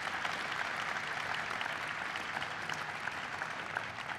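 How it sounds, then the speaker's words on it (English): Audience applause for Ken Salazar, the Secretary of the Interior, at an energy security and independence event: steady, dense clapping from a large crowd, sustained and even throughout without a break. "So please give him a big round of applause"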